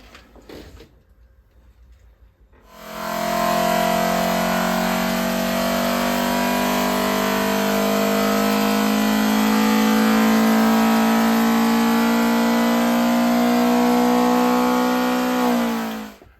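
Ford Pinto test engine on a cam test revs up sharply after a quiet start and holds a loud, sustained high-rpm howl with slowly shifting pitch, then drops off at the end.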